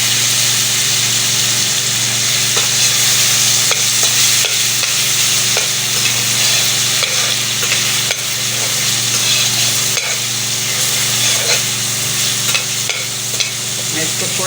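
Garlic ginger paste fries in a hot pan with a loud, steady sizzle, and spatula strokes scrape and stir at a regular rhythm throughout, with no one speaking.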